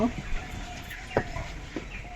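Chicks and hens clucking softly at a home poultry spot, a few brief, faint calls over quiet background noise.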